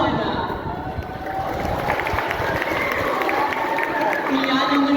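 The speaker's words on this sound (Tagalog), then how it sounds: "Bakit hindi niyo po subukang palakpakan at hiyawan Miss Earth Air, Ileana Marie Aduana." Pageant audience at a gay beauty contest festival in Linga, Pila, Laguna, clapping and cheering in a dense, steady roar that fills the space throughout, with crowd voices mixed in.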